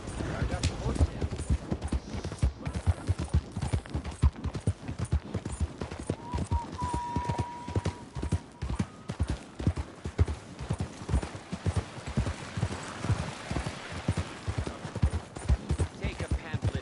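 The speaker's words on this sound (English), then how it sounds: "I got the horse now." Horse hooves clip-clop in a steady, rapid trotting rhythm throughout a video game scene, fairly close and moderately loud, with speech and a brief tonal sound in the background.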